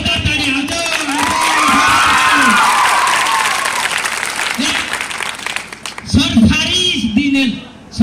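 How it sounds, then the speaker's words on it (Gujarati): An audience claps loudly at a school farewell program at Shri Sadguru High School, Bhinar, a dense burst of applause that swells and fades, with people talking before and after it. "બેન માટે જોરદાર તાળી"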